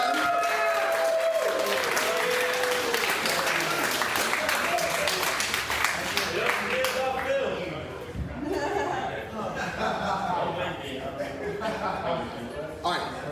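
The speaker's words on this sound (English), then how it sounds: "Can I get a round of applause for them?" A crowd at an air hockey tournament award ceremony claps steadily in a dense round of applause that thins toward the end, with scattered voices and chuckles mixed in.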